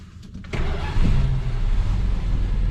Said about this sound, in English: I just have to say something about how fast this thing cranks up.